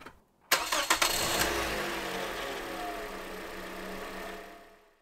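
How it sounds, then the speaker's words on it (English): A car engine cranks with a few quick starter bursts, catches, and settles into a steady, fairly loud idle that fades near the end. "and start the engine"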